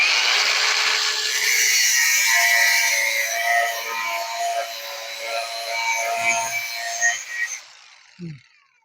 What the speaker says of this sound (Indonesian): Terus yang kedua akan saya gunakan gerinda cordless ya, yang pakai baterai teman-teman. Sama, kita potong.